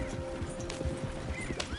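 Horse hooves clip-clop in Red Dead Redemption 2, a short run of quiet, uneven hoofbeats with a brief whinny-like tone over faint background ambience.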